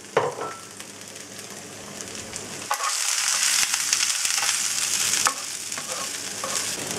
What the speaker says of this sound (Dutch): Zo, dat is een beetje bakken.